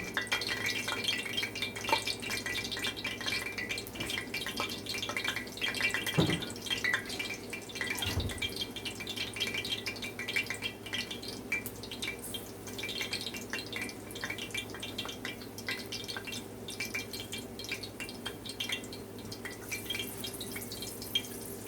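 Water drips and sprinkles into a cooking pot while callaloo and codfish are cooked, a faint, continuous patter of small droplets with a couple of soft thumps, and no talking.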